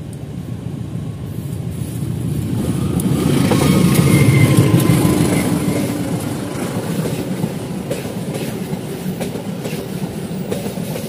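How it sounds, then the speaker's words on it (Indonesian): A local Garut–Cibatuan passenger train running from Purwakarta toward Garut rumbles past on the railway through the hills near Cisomang, West Java. Its loud, steady roar swells as it draws closest and then eases, with faint rail clatter and no voices. "kereta api lokal Garut Cibatuan dari Purwakarta menuju Garut"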